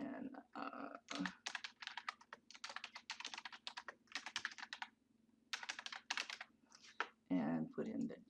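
Garlic-free office sound: quick bursts of typing on a computer keyboard while filling in a form in Adobe Acrobat, close and clear, with someone talking over much of the clicking.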